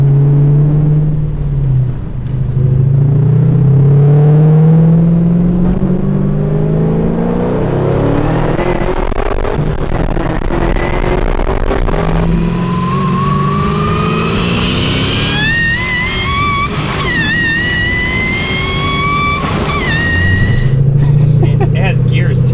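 LSA V8-swapped Honda S2000 revving and accelerating through mufflers, a deep rumbling engine climbing through gears with rising pitch sweeps, heard from inside the car with people talking over it.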